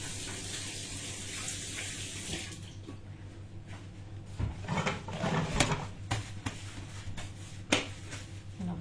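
Tap water runs steadily into a sink while sticky, dough-covered hands are rinsed, with soft splashing and a few small knocks and clicks against the basin, close and alone.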